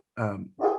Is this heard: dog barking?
yes